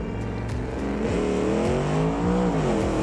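A budget drag car with an automatic gearbox and skinny front wheels accelerates hard in the BeamNG driving game, its engine climbing through rising revs with gear shifts, loud and continuous with no talk.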